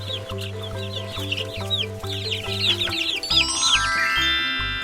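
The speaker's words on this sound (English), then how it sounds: "It's a chicken. It's small, yellow, and fluffy." A small, yellow, fluffy chicken clucking and chirping in quick repeated bursts, heard close over a steady rhythmic musical backing.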